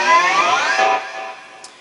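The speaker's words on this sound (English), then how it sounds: "the final sound of the song is the little slide that runs up the entire neck there" Electric guitar slide running up the entire neck and over the pickups to reach very high notes, a single bright squealing sweep rising and then fading out.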